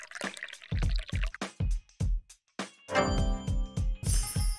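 Green tea is poured in the video game Dave the Diver: a series of short dripping, splashing liquid bursts with small clinks, ending in a denser stream of pouring sound.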